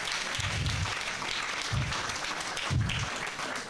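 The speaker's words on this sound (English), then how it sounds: "Let's give him a better clap." A crowd claps steadily for a few seconds at a memorial service, a sustained patter of many hands at moderate volume.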